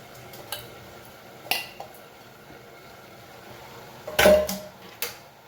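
A metal spoon scrapes and clinks in a pot of soaked rice with moong and toor dal, a few sparse knocks and one louder scraping stir, quiet against a faint background hiss.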